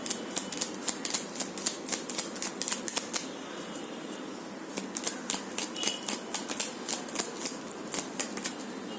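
Tarot cards are shuffled and drawn by hand, producing crisp, close riffling flicks in quick rhythmic runs with a short pause midway, and no one speaks.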